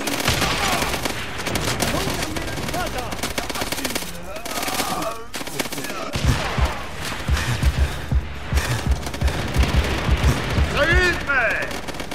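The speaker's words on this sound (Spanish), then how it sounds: "¡La ametralladora cubre el vestíbulo!" Rapid machine gun bursts from the World War II shooter Call of Duty: World at War rattle out loudly in the second half, layered over battle noise and shouting soldier voices in the game.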